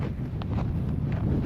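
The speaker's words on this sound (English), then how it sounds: "This stretch of trail was particularly windy, with sustained winds around 50 miles per hour." Steady, blustery wind of around 50 mph rumbles against the microphone on a winter mountain trail in New Hampshire's White Mountains, low and continuous, with faint scuffing sounds underneath.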